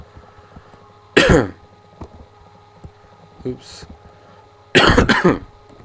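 Two harsh coughing bursts, one early and a double cough near the end, with a short spoken word between them over a quiet hum.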